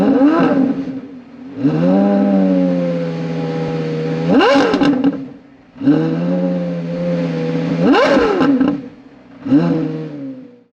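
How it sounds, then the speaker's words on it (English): A Porsche Carrera GT engine revving repeatedly, loud and close, each rise climbing into a sharp high-pitched wail before dropping back to a steady idle, with about four blips in a rhythmic sequence. "Carrera GT, definitely one of the best sounding cars of all time."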